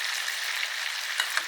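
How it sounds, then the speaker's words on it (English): A steak sizzles in a pan while garlic and thyme butter is spooned over it. The frying hiss is continuous and bright, with a couple of faint spatters near the end. "we baste the steak with the butter"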